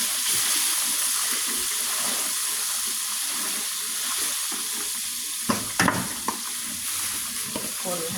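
Pork ribs fry in hot oil with a steady sizzle, then stirring brings louder scrapes and clatters of the utensil against the pan; no one speaks.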